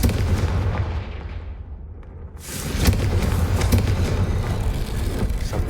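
The Confringo blast spell in Hogwarts Legacy lands as a loud, booming explosive burst. A rumbling, crackling roar sustains after it, following a short quieter swell.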